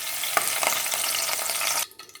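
Fenugreek seeds frying in hot oil, a dense, bright sizzle with small pops and stirring scrapes close up, cutting off abruptly near the end, with no voices.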